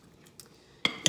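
A spoon tosses oiled potato pieces for oven fries in a bowl, giving a few faint taps followed by two sharp, close clinks of metal against the bowl near the end.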